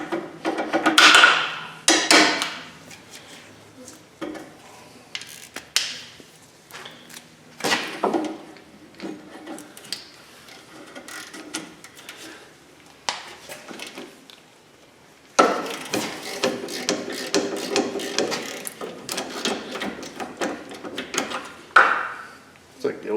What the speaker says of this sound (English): Like the old snap-on ratchet's coming apart there.